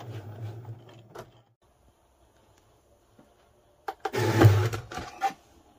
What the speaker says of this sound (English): now you can see the Cricut drawing it out onto my white card